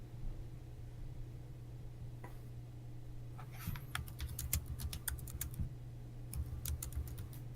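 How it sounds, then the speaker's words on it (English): Computer keyboard typing in bursts of quick, close clicks over a steady low electrical hum, starting sparse and then becoming a brisk run of keystrokes, with no talking. "He's still typing."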